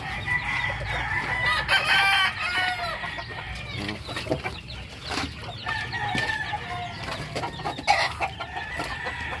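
Pet chickens cluck and a rooster crows in a yard with chicks around, with repeated nearby calls and squawks layered over steady low background noise.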